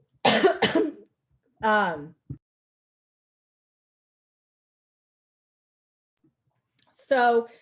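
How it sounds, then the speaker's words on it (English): A short burst of harsh coughing close to the mic, followed by a brief voiced sound and silence, then another short vocal burst. "Excuse me again, I have a cough."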